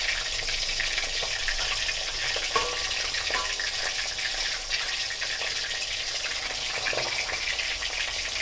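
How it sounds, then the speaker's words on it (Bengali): Pomfret fish frying in hot oil, producing a steady, close sizzling hiss with scattered pops and crackles from spattering oil. "খুব তেল ছেটকায় মাছগুলো। এইভাবেই আমি প্রত্যেকটা মাছ ভেজে নিচ্ছি।"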